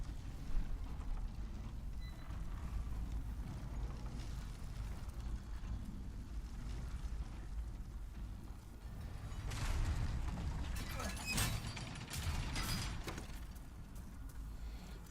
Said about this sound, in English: Send the elevator back.